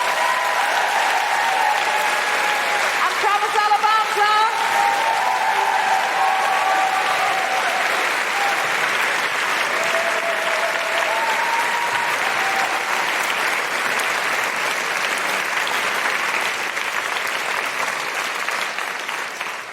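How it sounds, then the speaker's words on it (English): Sustained applause from a large audience, steady and loud, gradually thinning slightly toward the end. "A big, huge round of applause for Holly Harrison-Mullane"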